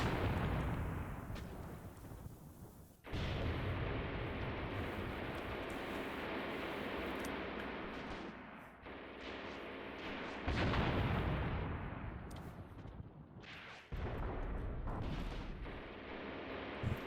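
Flak 36 anti-aircraft guns fire at infantry in the war game Graviteam Tactics, with loud, sustained booming bursts and heavy rumbling gunfire that keeps on with few gaps and hard new blasts near 3, 10 and 14 seconds.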